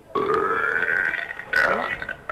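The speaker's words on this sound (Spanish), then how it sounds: "Estamos en un concurso de eructos" A long, loud, drawn-out burp from a burping contest rolls on for over two seconds, close and tonal, with a second resonant surge partway through.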